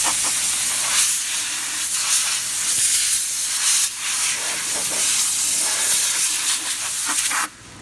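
A CNC machine routing a wood profile makes a loud, continuous hissing roar with slight surges, steady for several seconds before cutting off abruptly.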